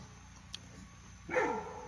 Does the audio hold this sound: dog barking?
yes